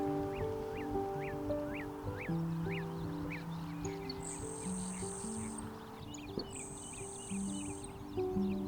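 A grasshopper sparrow gives two thin, high insect-like buzzes, with scattered chirps earlier and a steady tonal hum beneath, in grasslands at sunrise.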